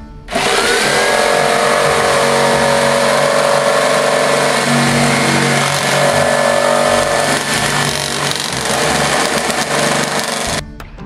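Jigsaw cutting thin particle wood, a loud continuous buzzing whine running steadily for about ten seconds before stopping abruptly.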